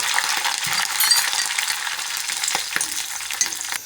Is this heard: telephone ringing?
no